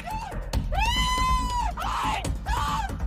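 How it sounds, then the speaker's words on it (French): A woman screams during a police arrest: loud, close, drawn-out wailing cries, one long sustained scream followed by two shorter anguished bursts, with no clear speech. "Elle s'est mise à crier comme si elle était possédée"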